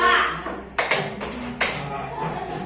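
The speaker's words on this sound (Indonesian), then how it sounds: "Kalau saya bilang 2, tepukannya." A second group in a teachers' workshop claps its pattern, a few sharp clap bursts in a short irregular rhythm, with faint talk in the room around them.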